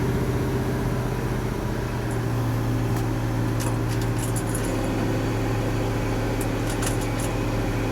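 A 1967 Ford F600 truck engine idles with a steady low hum and thrum that stays constant, with faint light metallic jingles and clicks on top and no one talking.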